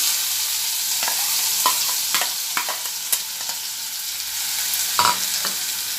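Finely chopped large onions sautéing in a pan while cooking a vegetable dish, a steady broadband sizzle with scattered sharp stirring clicks and scrapes, close and fairly loud, no voices.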